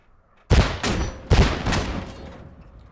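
Two bursts of gunfire strike a vehicle in a video game, each a sharp, loud volley with a trailing rattle and echo, fading out afterward.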